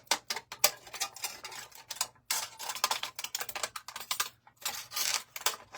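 Paper pieces for a sign made from rulers are recut with scissors, giving rapid dry snips and rustles in quick bursts with a short pause, close up and fairly quiet, with no voices.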